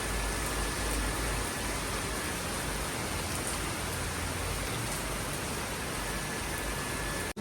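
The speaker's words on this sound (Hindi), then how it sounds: "तो बारिश बहुत तेज़ है।" Heavy monsoon rain pours down in a dense, steady hiss, loud and unbroken for several seconds with no talking over it.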